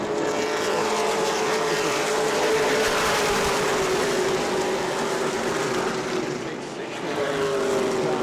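Stock race cars roar around the New Smyrna Speedway oval, a dense, sustained engine drone with a pitch that rises and sweeps as the pack passes, staying loud throughout.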